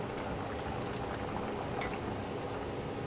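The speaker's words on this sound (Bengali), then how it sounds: "ভালো করে এটাকে ফুটিয়ে নিলাম" Curry with flour dumplings boils in a pot, a steady close bubbling and simmering that carries on evenly without pause.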